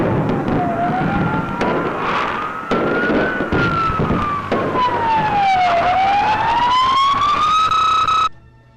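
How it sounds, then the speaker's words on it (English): Emergency sirens wailing loudly, a rising and falling tone sweeping up and down over a dense background of bangs and crowd noise, cutting off abruptly at the end. "Sirens begin to blare."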